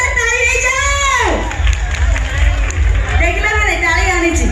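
Audience at a gananatya folk theatre show breaks into applause, scattered claps and cheering rising under a loud, amplified voice that carries on over the crowd.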